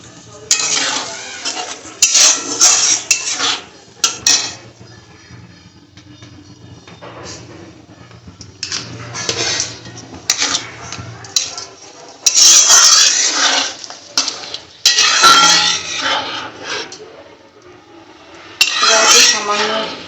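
Spices with turmeric being stirred and sautéed in a pan, repeated bursts of metal spatula scraping against the cookware in irregular rhythm over a faint low sizzle, close and fairly loud.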